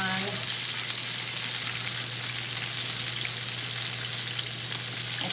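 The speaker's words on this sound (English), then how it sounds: "the chicken that I'm frying has been in there for about 4 minutes." Steady, dense sizzling of breaded chicken pan-frying in hot oil, a continuous crackling hiss with no pauses, close by.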